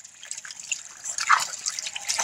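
Water runs and drips from the drain valve of a residential water heater being flushed of sediment, a light steady trickle with small splashy drips rising slightly toward the end.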